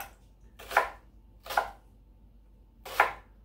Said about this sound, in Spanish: Picamos este otro lado también.